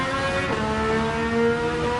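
Car engine in the Gran Turismo 7 racing game holding a steady high-pitched note near the upshift point, a sustained droning whine with a slight rise midway, no voices.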